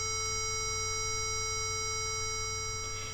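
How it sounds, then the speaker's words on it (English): A steady 440 Hz A tuning reference tone holds unbroken and clean at moderate level, sounding alone for about three seconds. "440 hertz sounds like this."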